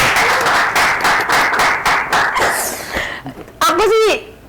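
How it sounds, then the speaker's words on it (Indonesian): Studio audience at an Indonesian talk show claps loudly for a few seconds, then the applause fades out and a voice rises briefly over the end. "Tepuk tangan dulu dong"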